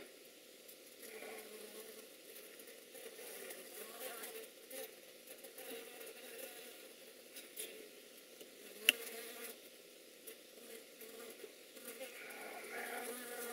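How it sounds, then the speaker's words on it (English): A loose honeybee drone buzzes faintly and steadily in the background throughout, a soft continuous insect hum with no one speaking over it. "It sounds like there's a loose drone."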